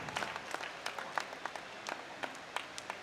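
An audience at an Arya Vaishya association's installation ceremony applauds as a guest is welcomed onto the stage. Scattered claps from many hands patter steadily at a moderate distance, with no voices over them.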